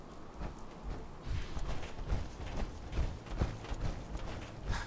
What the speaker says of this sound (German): so ein Unwetter kann ich jetzt gar nicht gebrauchen